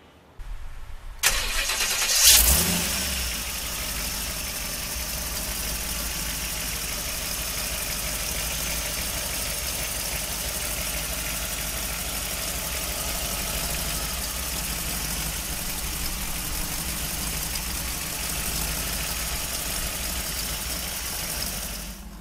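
A 1930 Ford street rod's engine cranks and fires within the first seconds, then settles into a steady, loud, continuous idle that runs on alone without any talk.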